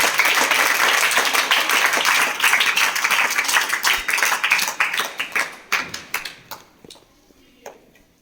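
Loud, dense applause from a crowd that thins into scattered individual claps before fading out.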